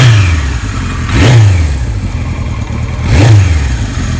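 A 1976 Kawasaki KZ900 motorcycle engine is blipped twice from idle, each rev a quick loud rise and fall in pitch, with a steady close idle rumble between the two bursts.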